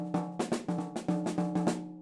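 A jazz drum pattern played overly swung: evenly spaced, sharply accented hits with a lopsided, skipping swing feel, each hit decaying quickly, heard up close with no talking.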